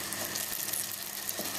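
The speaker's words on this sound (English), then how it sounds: "you want to stir it with a wooden spoon until it's all melted and mixed together" Butter, sugar and syrup melt in a pan while a wooden spoon stirs them, giving a soft, steady sizzle with faint scraping, quiet and without speech.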